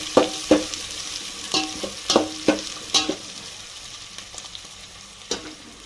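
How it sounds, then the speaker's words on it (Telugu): Onions sizzling in a pan while a spoon stirs and scrapes them in repeated sharp strokes, fairly close, with the clatter thinning out toward the end. "మధ్యలో కలుపుకుంటూ ఉండాలి ఉల్లిగడ్డ ఎర్రగా అయ్యేదాకా"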